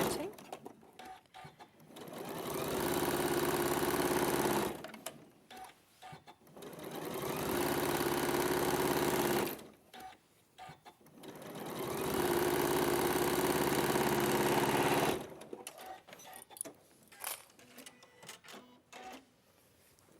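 A sewing machine stitches down a quilt seam in three long, steady bursts separated by short pauses, with handling noises in between.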